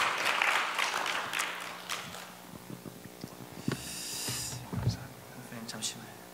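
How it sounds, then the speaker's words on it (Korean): A church congregation applauds during a worship service, the clapping spread out and fairly quiet, mixed with scattered voices and room noise. "하나님께 영광의 박수를 돌렸고요"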